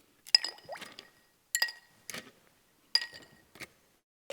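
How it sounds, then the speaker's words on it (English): Ice drops into a chilled cocktail glass in a few quick groups of sharp clinks and rattles, close and clear against quiet, with pauses between the groups. "So I'm going to add some ice."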